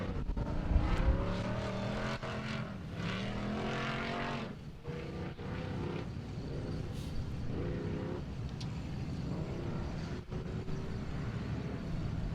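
Off-road race vehicles at the 2019 4WP Every Man Challenge, a 4,800 and a 4,500 class machine, pull away from the start line with loud, sustained engine roar and rising revs, several motors overlapping close by for the whole stretch.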